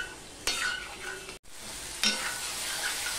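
Spice masala being sautéed in a pan for a small fish curry, a steady sizzle with scraping stirring strokes, briefly cutting out midway before resuming, no talking.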